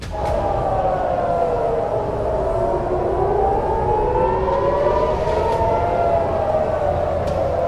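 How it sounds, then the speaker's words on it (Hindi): Air raid sirens during the Iran–Israel war wail continuously, their pitch slowly rising and falling in overlapping tones, loud and steady throughout with no voices. "सायरन लगातार गूंज रहे हैं।"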